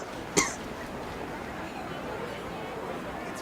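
A single sharp cough from a person, heard once near the start, followed by quiet room tone with no further sounds.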